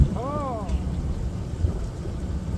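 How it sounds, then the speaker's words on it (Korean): Steady wind roars and buffets across a boat out fishing for webfoot octopus and cuttlefish, a constant low rumble of gusts with a brief whistling tone near the start. "바람이 불어서 막 난리네요"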